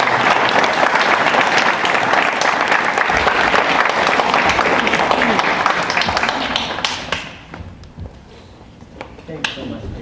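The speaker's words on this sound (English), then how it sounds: "Let's give Tetsuya a big round of applause" An evening talk audience claps loudly and steadily for a speaker, a dense wash of applause that tapers off around seven seconds into a few scattered claps and room noise.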